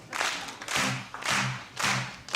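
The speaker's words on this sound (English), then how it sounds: "So let's get everyone clapping now." An audience claps along in a steady beat before launching into Oh Susanna, about four evenly spaced bursts of clapping, moderately loud and close, with no talk over it.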